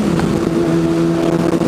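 Car engine pulling hard in third gear, a loud, dense, continuous drone with strong steady harmonics and no voices over it.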